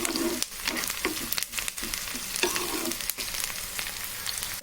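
Chicken fry with green chillies and mint stirred in a hot pan, a dense steady sizzle broken by frequent scraping and clattering strokes of the spoon, close up, with no talk.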